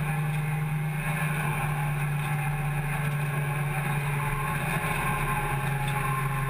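Steady low drone of a 750 Motor Club hot hatch race car engine held at low revs in sixth gear on track at Cadwell Park, a constant humming tone with no talking.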